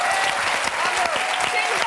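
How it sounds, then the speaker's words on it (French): Studio audience applause on a French television talk show, dense and steady clapping filling the whole stretch at close range, with a few voices faintly mixed in. "Regardez, Bruno vous applaudit."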